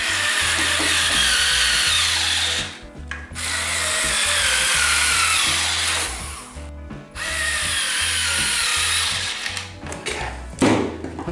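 Power tool driving screws into a generic bracket on a pinball machine's wood rail, a loud close whining drill buzz in three long bursts with brief pauses between them, then short stuttering taps at the end.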